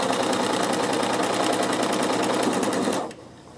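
A sewing machine stitches ribbon with the needle-down setting, a loud, fast, even mechanical whir with rapid regular ticks. It runs steadily for about three seconds, then stops abruptly and leaves a quiet hum.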